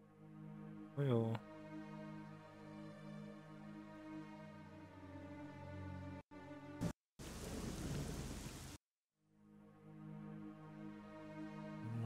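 Steady rain with low rumbling thunder in the video game S.T.A.L.K.E.R.: Shadow of Chernobyl runs throughout, broken by a sharp crack and a brief burst of noise, then a short silence.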